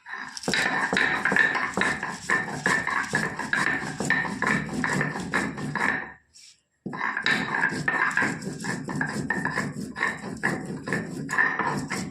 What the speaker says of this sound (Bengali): আমি শিলপাটায় বেটে নেব মশলাগুলো। শুধু আদা আর রসুন, কাঁচা লঙ্কা আর শুকনো লঙ্কা বেটে নেব।